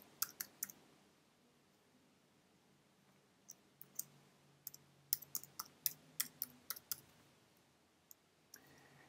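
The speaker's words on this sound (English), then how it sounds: "I'm going to type in my email address" Typing an email address on a computer keyboard: faint scattered key clicks in short bursts, with pauses between groups of keystrokes, no voices.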